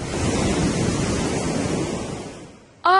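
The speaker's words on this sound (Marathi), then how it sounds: "I like to listen to the sea." Sea waves wash onto a beach in a loud, close surge that fades off over a few seconds, followed by a voice speaking briefly at the end.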